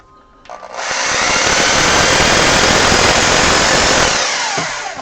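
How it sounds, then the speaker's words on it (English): A loud, steady power drill grinds through armature material for about four seconds, a rough continuous whir with no voices. "I figure I can just drill right through to the other side."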